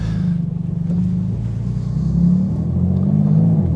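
Porsche 911 GT2 RS engine and exhaust with the exhaust button switched on, a deep, loud, continuous rumble with rising and falling tone as the car pulls, close and alone.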